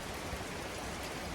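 Steady rain falls outdoors in a dense, even hiss, with no pauses and no voices.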